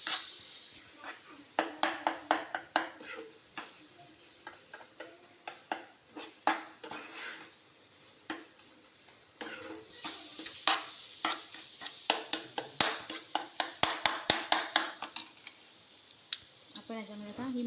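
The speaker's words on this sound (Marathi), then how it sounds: "ते पण ह्याच्यामध्ये चांगले परतून घ्यायचे" Diced mango and sheera being sautéed in a pan, with a spoon scraping and clinking against the metal in a rapid, uneven rhythm over a steady sizzle, loud and close throughout.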